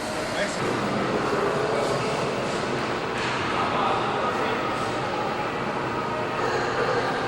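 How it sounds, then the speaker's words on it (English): An Amtrak train, number 98 running northbound, pulls into Orlando station with a steady rumbling roar and rolling rail noise throughout, heard from trackside at moderate distance with no clear voices. "That was train number 98, the Mentor, just that we've seen coming in, so going northbound from Orlando."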